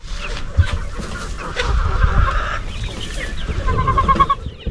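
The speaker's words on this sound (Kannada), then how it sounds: "ನಾವು ನಾಟಿ ಕೋಳಿ ಫಾರ್ಮಿಂಗ್ ಮಾಡ್ತಾ ಇದ್ದೀವಿ" Native country chickens cluck and crow together on a chicken farm in Karnataka, a busy, continuous flock chorus with no talking.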